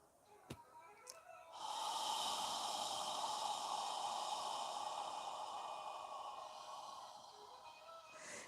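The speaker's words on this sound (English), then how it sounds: "squeeze out all of the air on the exhale" Long, steady exhale pushed out through the breath during a yoga session, a breathy hiss that holds for several seconds and slowly fades, preceded by a couple of small clicks.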